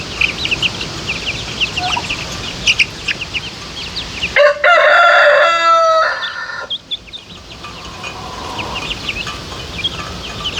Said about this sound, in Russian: Индюшат до 3 возрастов и цыплят до 3 возрастов. И ходят толпой.